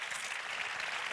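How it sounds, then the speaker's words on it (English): Studio audience applause rises as a steady, even wash of clapping, soft and somewhat distant, with no voices over it. "Start the applause."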